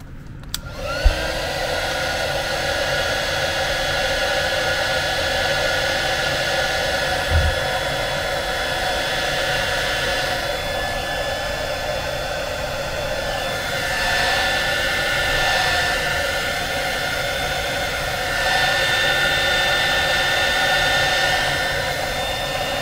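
A hair dryer blows steadily and loudly to dry a glued PC speaker, its constant whooshing roar holding close for the full stretch with slight shifts as it moves, no speech.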